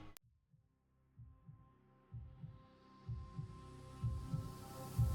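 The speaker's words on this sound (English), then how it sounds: "his heart pounding in his chest" A pounding heartbeat sound effect throbs low and heavy, its thumps growing louder and quicker over a dark droning hum after a sharp opening click.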